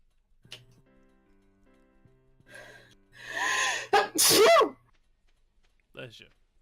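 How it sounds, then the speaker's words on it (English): A single close, sharp sneeze after a quick breathy inhale, during a Stardew Valley multiplayer livestream, with soft game music and faint voices before it. "Bless you."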